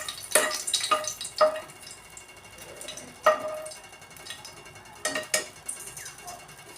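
A bay leaf tempering in hot oil is stirred in a pan, with a handful of sharp scraping clinks spaced across a low, steady sizzle, close by.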